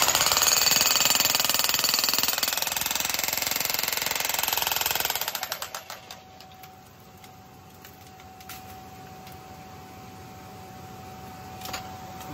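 A jackhammer pounds loudly and continuously close by, breaking hard ground while mining opal, for about five seconds, then cuts out, leaving quiet ambient noise.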